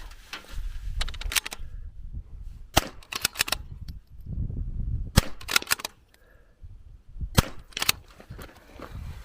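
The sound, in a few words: Zermatt Rim-X 22LR rifle shots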